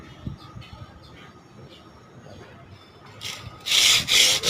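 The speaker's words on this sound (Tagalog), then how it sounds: "Liha lang, liha hanggang sa mapatag na siya." Sandpaper rubbing over dried putty on a window repair, quiet scratchy strokes at first, then loud rapid back-and-forth sanding bursts near the end, with faint voice in the background.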